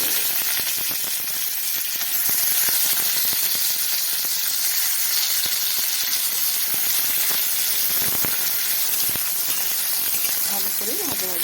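Chopped onion and garlic fry in oil with black cumin, a loud, continuous close sizzle and hiss with scattered crackles and occasional stirring scrapes.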